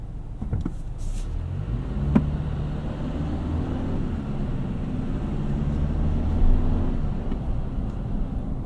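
A 2025 Toyota 4Runner Off Road Premium with a 4-cylinder engine accelerates from a stop, producing a steady, fairly subdued low engine drone that swells slightly toward the end, heard from inside the cabin with no talking.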